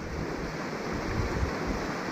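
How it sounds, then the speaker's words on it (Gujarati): Stormy sea surf at Diu rolls in as a continuous, dense roar, steady and fairly loud throughout, with wind buffeting mixed in and no voices. "દીવનો દરિયો ધોધમાર મારતો દરિયો તોફાની જુઓ"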